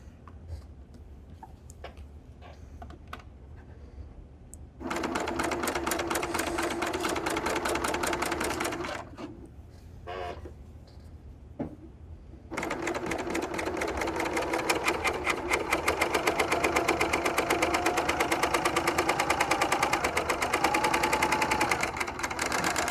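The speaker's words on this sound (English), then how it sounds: "make sure that everything is moving freely and that your stitches are beginning to form a chain for the serger" A Baby Lock L890 serger forming a thread chain runs in loud, rapid mechanical bursts with a brief pause mid-way, then continues steadily at close range without talk.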